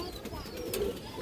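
A pigeon offered for sale coos softly close by, a faint low murmur over quiet background noise.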